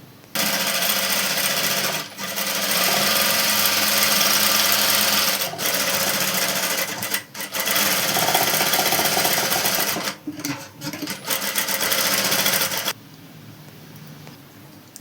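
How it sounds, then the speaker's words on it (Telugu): A sewing machine runs a straight stitch line on an umbrella frock: a loud, steady mechanical whir that runs close for long stretches, dips briefly a few times, then stops near the end. "ఇప్పుడు ఫస్ట్ లైన్ ఇక్కడ చక్కగా స్ట్రైట్గా కుట్టు వేద్దాం"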